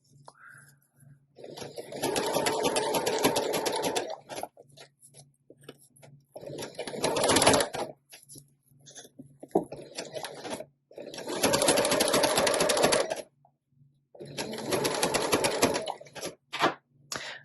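A sewing machine stitches through a junk journal page in several steady bursts of rapid whirring, separated by brief pauses, close and fairly quiet.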